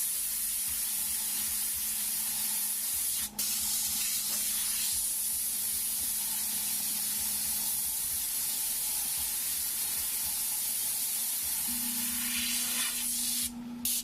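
An airbrush gun sprays paint onto a metal piece, a steady close hiss running throughout with a faint tonal hum and a couple of brief clicks, no talking.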